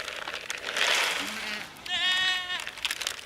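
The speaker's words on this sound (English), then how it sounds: "Oh, the sheep wanted to come." A sheep bleats twice on a farm near goats: a low short call, then a louder wavering bleat a moment later, close by, with outdoor noise around.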